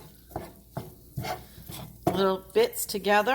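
A spoon scrapes and stirs browning ground turkey in a pan, giving short, separate scraping strokes at an irregular rhythm under a faint sizzle, while a person talks over the later part.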